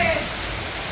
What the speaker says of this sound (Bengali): দেখো বন্ধুরা, কি হারে বৃষ্টি চালু হয়ে গেছে।